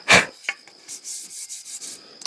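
Hickory being rubbed along a carved axe handle to burnish it, a loud opening rasp followed by a series of softer, rhythmic rubbing strokes, close and alone.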